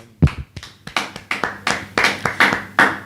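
A church congregation claps in unison to acclaim Jesus, with sharp rhythmic hand claps roughly every third of a second, moderately loud and close, with no talk over them.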